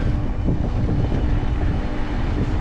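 Headwind buffets a microphone during a bicycle ride in Crimea in April, a steady low roaring rumble that fills the short stretch without pause and with no voices.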